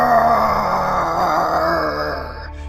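A voice imitates a loud roar from under a bed, a long, sustained, groaning growl that holds strongly and then fades out at the end.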